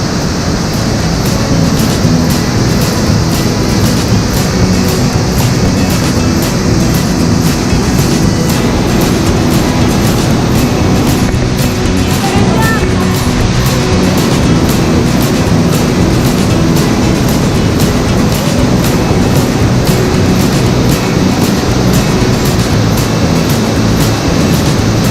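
Cupl Twin Waterfalls in Bali, a dense, unbroken roar of falling water, loud and close, holding steady throughout with no pauses.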